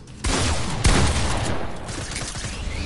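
Suppressed SMG fire in a video game, a dense sustained burst of rapid shots that is loud and close, continuing steadily for a few seconds without talk.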